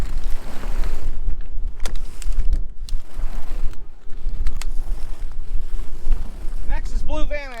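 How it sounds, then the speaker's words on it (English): Strong wind roars and buffets outdoors, with gusty rumbling and rustling throughout, close and loud, while people talk in the background. "It is really windy today. That wind is moving."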